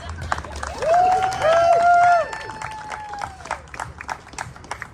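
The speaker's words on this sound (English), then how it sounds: "Applaud Lucas" Audience applause and cheering for a performer at a comedy show, moderately loud with a brief whistle-like tone over the crowd noise.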